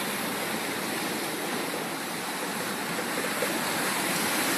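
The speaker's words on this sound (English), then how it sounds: "So we surf down the waves." Waves rush in a steady, loud wash of water around a small boat surfing down them near Friendly Cove, a continuous close roar with no voices.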